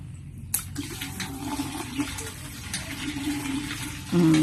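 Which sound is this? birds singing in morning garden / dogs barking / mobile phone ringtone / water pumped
water pumped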